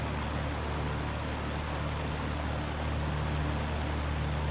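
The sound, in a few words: Lancair Legacy engine running in FSX flight simulator video game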